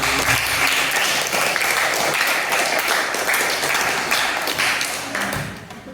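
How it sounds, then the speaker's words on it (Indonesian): Sustained applause from a classroom audience for a student group about to present, dense steady clapping filling the room and tapering slightly at the end. "Untuk yang lain tolong berikan aplaus untuk kelompok 3 biar tetap semangat"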